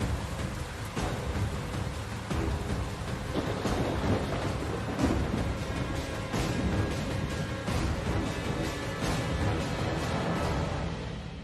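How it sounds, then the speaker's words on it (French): Continuous heavy thunder rolls together with steady rain during a night patrol in a storm, loud and dense throughout with no clear breaks and no voices. "C'est juste le tonnerre."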